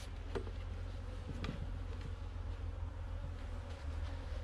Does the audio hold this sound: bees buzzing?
yes